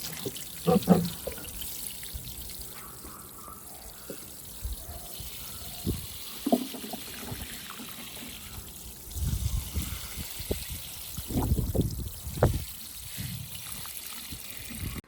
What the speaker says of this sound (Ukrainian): все добре перемішали і заливаємо наші троянди водою